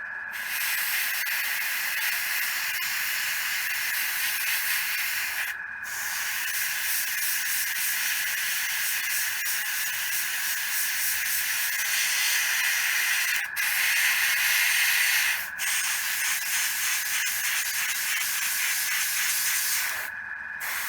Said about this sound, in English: I'll give you an idea of the spray area that I'm going for.